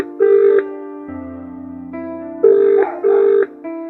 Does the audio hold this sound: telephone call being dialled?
yes